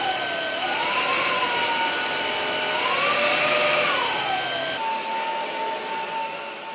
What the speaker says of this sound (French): quand vous passez l'aspirateur sur le sol